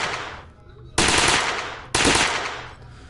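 Two loud, sharp gunshots from a WW2-era gun in the Gun Club VR shooting game, roughly a second apart, each with a long decaying echo.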